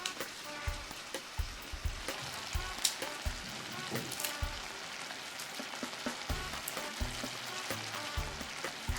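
Eggplant pasta sauce (pasta alla Norma) with fresh basil sizzles in a pan while being stirred, with a steady close crackle, soft spoon knocks and scrapes throughout.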